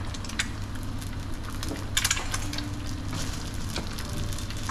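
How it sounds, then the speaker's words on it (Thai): Soaked pad thai rice noodles hitting a hot pan, a steady sizzle and crackle of frying with scattered clatters and scraping from stirring, moderately close. "ใส่เส้นผัดไทยที่ดาวแช่น้ำไว้จนนิ่มเรียบร้อยแล้วนะคะ"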